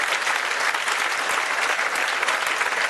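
Audience applause at an NDA achiever's talk, a dense continuous clapping from many hands that stays even and moderately loud throughout, with no voices over it.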